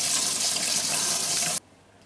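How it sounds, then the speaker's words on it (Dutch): Water from a tap runs steadily over grapes being washed, a loud continuous hiss that cuts off abruptly near the end, leaving quiet. "Druipen moet je goed wassen met water."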